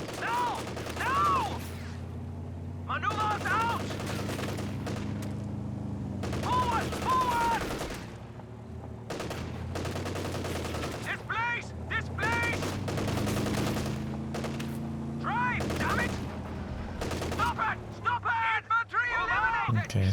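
Machine-gun bursts from a Kubelwagen in the strategy game Company of Heroes 2 crackle in repeated short strings across a long stretch of battle, heard under someone talking almost continuously.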